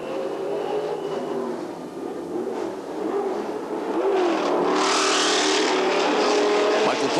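A 1984 Can-Am race car at Mosport Park comes into the pits for fuel, its engine whirring and rising to a louder, rougher note, with a commentator talking over it.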